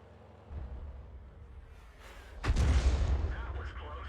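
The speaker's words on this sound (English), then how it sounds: "I'm pretty sure the M41's firing at our 720" An M41 tank fires its cannon in a tank video game, one sharp blast about midway through that rings out over steady engine rumble, with a voice speaking faintly beneath.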